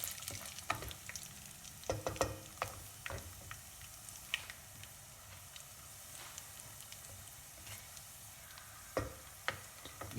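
Whole spices for a Rajasthani mutton curry stirred in a pan over low heat, giving a soft steady sizzle broken by repeated scraping clicks of the spoon, close and fairly quiet with no talk.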